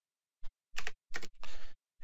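Quick bursts of keystrokes on a computer keyboard while entering a command in a package manager console, a few crisp clusters of clicks with short pauses between them, close and distinct against silence.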